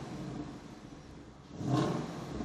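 V8 engine of a new Ford Mustang prototype revving: a low idling rumble that swells into a short, moderate rev near the end, heard from close by.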